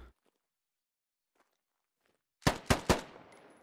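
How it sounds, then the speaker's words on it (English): Three sharp gunshots in the military shooter game Squad, fired in quick succession and ringing out loud after a near-silent stretch. "Shots being fired."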